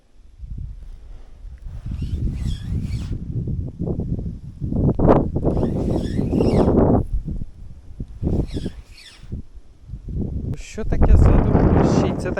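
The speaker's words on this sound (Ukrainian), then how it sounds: "який вітер." Gusty wind rumbles and buffets the microphone throughout on a river floodplain while pike fishing in November, with people talking over it.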